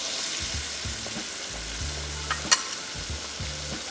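Shallots frying gently in olive oil and butter in a skillet, a soft continuous sizzle with low scraping stirs and a brief clink of the utensil.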